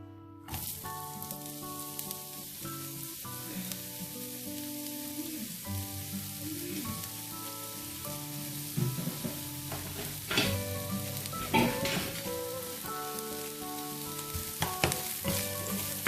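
Garlic and onion sizzling steadily in hot oil for a masala gravy, a close continuous frying crackle with occasional stirring clinks over a faint musical background.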